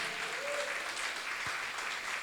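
A church congregation applauds during a Portuguese sermon, a steady wash of clapping that fills the room evenly for a couple of seconds, with a faint voice briefly rising over it.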